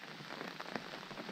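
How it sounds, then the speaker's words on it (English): Steady rain falling outdoors, a soft continuous patter of drops on surfaces, faint and even with a few slightly louder hits and no voices. "This rain's just not letting up."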